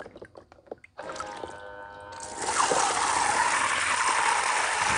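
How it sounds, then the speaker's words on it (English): Water from a portable camping shower nozzle sprays steadily outdoors, starting abruptly and then growing into a loud, continuous hiss. "Make sure that your nozzle's spraying where you'd like it."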